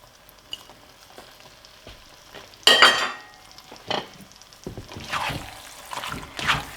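Puttanesca sauce with rigatoni and basil being stirred in a hot pan, giving a steady soft sizzle and one loud scraping stir, then a run of shuffling, clattering stirs close by, with no one talking.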